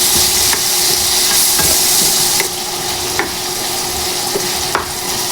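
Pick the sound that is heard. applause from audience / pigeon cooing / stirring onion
stirring onion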